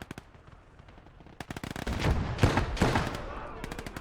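Rapid bursts of machine-gun fire from the WW2 video game Gates of Hell (Ostfront), with sharp cracks early and then a loud, dense volley of automatic fire and echoing shots in the second half.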